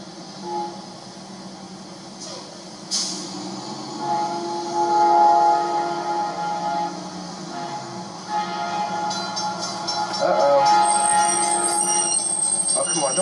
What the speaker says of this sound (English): I think it's gonna be the Amtrak.